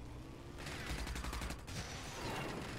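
Gunfire in the video game Rage, a rapid burst of automatic shots rattling for about a second over a steady game background, followed by lower rumbling noise, with no talking.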